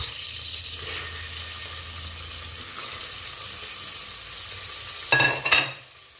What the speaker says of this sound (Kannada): ಗೋಲ್ಡನ್ ಕಲರ್ ಬರೋವರೆಗೂ ಫ್ರೈ ಮಾಡಬೇಕು